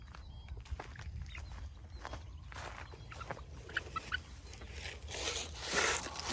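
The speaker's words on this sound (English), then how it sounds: "feeding the chickens." Chickens clucking and scratching nearby as feed is scattered, with scuffling, light thumps and footsteps; a rustling burst near the end.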